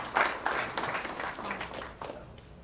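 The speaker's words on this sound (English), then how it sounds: "can we give John Beccari a round of applause" Audience applause at an opportunity zone conference morning session, uneven clapping from a moderate crowd with distinct sharp claps standing out, gradually thinning over a few seconds.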